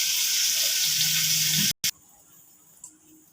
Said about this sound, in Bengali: আলু পটলটা কড়াতে এখন ভাজা করছি।